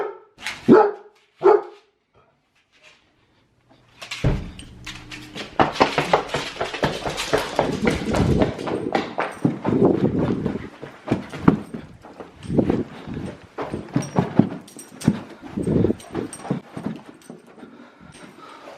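A pet dog called Copper barks repeatedly in loud, close bursts, a couple of sharp barks first, then a longer agitated run of barking after a short pause.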